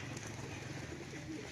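A female Jack crested pigeon coos softly in a low, steady murmur that runs continuously for a moment without pauses.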